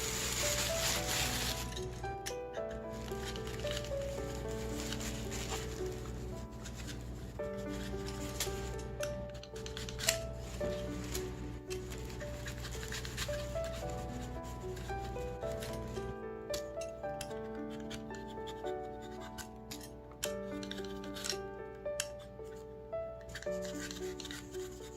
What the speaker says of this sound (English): first I want to peel it.